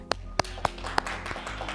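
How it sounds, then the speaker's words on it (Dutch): A few people clap for a presenter on a stage, four distinct, fairly close hand claps spaced at a slow, uneven pace, followed by softer scattered clapping and background murmur. "Er staan ook wat mensen voor me te klappen."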